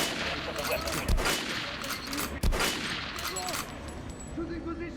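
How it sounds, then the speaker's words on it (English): Weapons fire at the shooting range in the video game Metro Last Light, heard as two sharp, loud shots about a second apart over a dense, noisy game backdrop. "Head over to my range and try out those guns."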